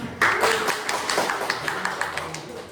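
A classroom group claps during an economics lesson, a short burst of scattered hand claps in a room, uneven and fading after a couple of seconds.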